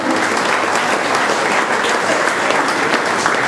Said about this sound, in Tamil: கவிதாயினி திருமதி சசிகலா சங்கர் அவர்களை மேடைக்கு உங்கள் கரகோஷத்துடன் அழைக்கிறோம்